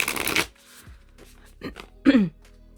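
Tarot cards being shuffled up close in a brief riffle, followed by a few soft taps and shuffling sounds.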